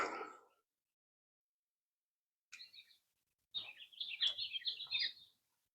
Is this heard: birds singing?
yes